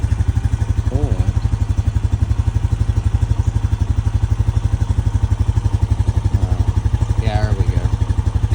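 A 2025 Honda Rancher 420 ATV engine idles steadily to warm up, a loud, close, even rapid putter throughout, with a person speaking briefly over it.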